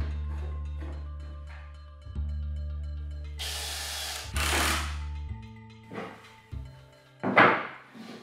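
A power drill drives screws into the frame of a wooden Murphy bed, whining motor bursts that rise and drop in pitch, separated by short pauses and handling knocks, close and alone.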